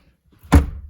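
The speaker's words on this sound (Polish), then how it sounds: "ok, drzwi się zamykają" A single door closing with one dull, heavy thunk about halfway through, close by, after near silence.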